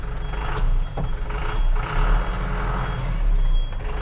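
A FAW truck backs up with its reversing beeper sounding in a steady repeating pattern of loud beeps over the low rumble of the idling diesel engine, close by.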